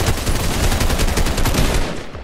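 Rapid automatic weapon fire in the video game Fortnite, a loud, dense burst of evenly spaced shots running for about two seconds before cutting off.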